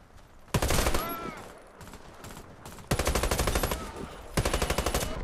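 Full-auto bursts from the AM-17 rifle in the Warface shooter, three loud rapid rattling volleys separated by quieter stretches of game sounds and distant shots, close to the listener.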